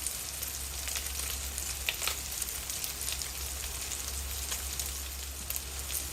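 Unmarinated chicken breast deep frying in hot oil in a home kitchen, a steady dense crackling sizzle with scattered sharper pops, close and continuous without talk.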